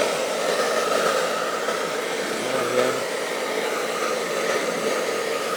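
An electric blower runs steadily throughout, a constant airy whine and hiss close to the microphone with no pauses and no voices.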